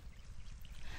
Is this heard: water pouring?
yes